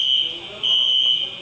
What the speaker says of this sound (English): The fire alarm just turned on here in the Lufthansa Sky Lounge.